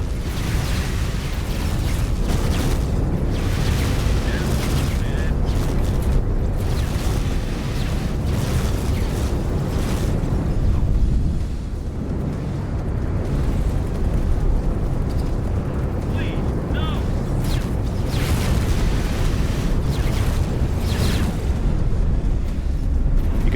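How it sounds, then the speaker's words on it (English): Ship turrets blasting at a fast attacking craft during space combat in X4 Foundations, a dense, continuous roar of booming shots and explosions running loud throughout, with a brief dip midway. "Now you can see my turrets are going."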